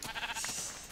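Brown sheep bleating in a video game, one short wavering bleat up close followed by a thin fading tail, no voices.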